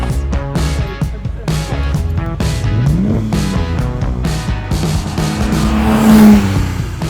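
A Ferrari 275 GTB's engine under way on the road, loud and close, its note climbing and falling through gear changes, with one sustained rising rev near the end.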